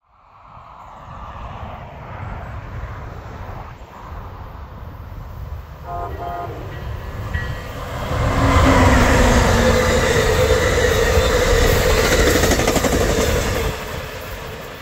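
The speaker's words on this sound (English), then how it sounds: "Southbound Amtrak Cascades with SC44 number 1408 pushing." A southbound Amtrak Cascades passenger train with SC44 locomotive 1408 pushing approaches, its horn sounding briefly before the rolling roar of the passing cars swells loud and close.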